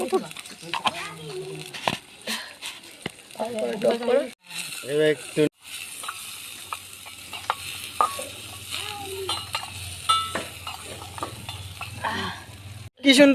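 Food fries on a small stove with salt and turmeric added, sizzling and scraped with a spoon while people talk over it throughout.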